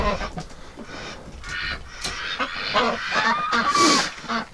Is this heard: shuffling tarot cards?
no